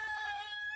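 Rooster clucking, one short faint tonal call from a single bird, heard alone over a quiet background.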